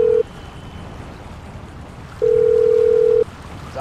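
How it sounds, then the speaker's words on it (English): A phone dial tone inside the video game GTA 5, a steady electronic hum heard in two bursts: a brief one at the start and a longer stretch of about a second, over faint background noise. "Dialing."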